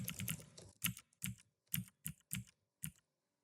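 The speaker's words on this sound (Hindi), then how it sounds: "यहाँ पे कुछ नंबर जो है वो मैं टाइप कर रहा हूँ" Keys tapped on a computer keyboard while entering numbers into an Excel spreadsheet, a quick burst of clicks followed by about six separate, evenly spaced keystrokes, close and clear with no other sound.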